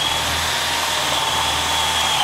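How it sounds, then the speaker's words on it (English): A power drill whirs loudly and continuously, close up, as tape is removed during a school bus conversion; no talking over it. "I'm really glad I influenced you to buy the better drill."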